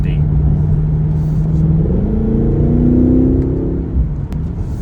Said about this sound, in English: when your foot is down all the way, you are going to break the rear tires loose a little bit